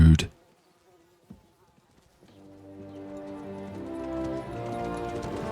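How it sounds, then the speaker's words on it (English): Horse hooves in the medieval game Kingdom Come: Deliverance II, a sharp thud at the start and then a growing rumble of approaching riders swelling steadily louder toward the end. "Oh, here come the horses to save us."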